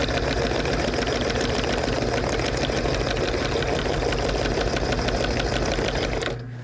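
An industrial sewing machine stitching heavy truck canvas runs loud and close in a fast, steady mechanical rhythm, then cuts off abruptly near the end.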